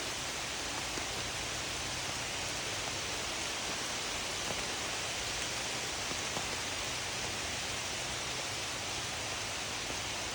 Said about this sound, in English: It's beautiful, and it's raining.